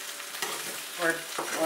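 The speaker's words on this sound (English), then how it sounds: "Allow the potatoes and the Spam to cook." Spam and potatoes fry in a pan with a soft, steady sizzle, broken by a few brief scraping stirs. A short spoken word is heard over it.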